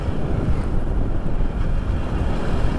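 Steady wind and rolling surf at a beach near Uppada, a continuous loud rushing roar with microphone wind buffeting and no talking.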